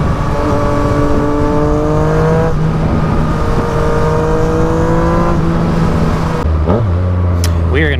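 A Yamaha FZ-09 motorcycle engine drones steadily nearby, stepping up in pitch several times and then dropping through a sharp downshift near the end, over a constant rush of wind.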